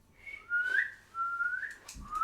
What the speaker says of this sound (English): I make one big whistle.